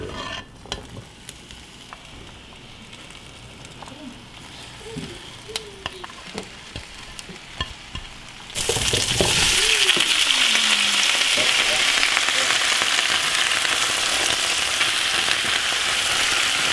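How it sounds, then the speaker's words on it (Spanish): Bell peppers and onion drop into a hot pan and fry, starting with scattered clinks and stirring before a sudden loud, steady sizzle takes over and continues close up. "en la otra sartén voy a freír todo esto que son los morrones y la cebolla"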